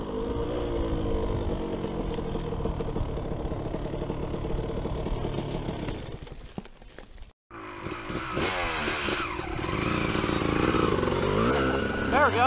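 A dirt bike engine revs and drones outdoors, loud and continuous, drops out briefly mid-way, then returns with rising and falling revving while people talk over it.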